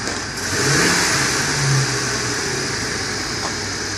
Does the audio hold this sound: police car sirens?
no